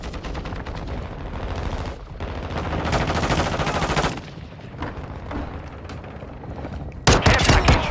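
Sustained automatic gunfire from a mounted gun in Modern Warfare 2, dense rapid bursts rattling continuously for several seconds with brief pauses, ending in a louder, sharper volley.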